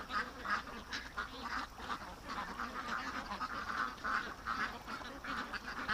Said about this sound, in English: Okay, get inside there, ducks.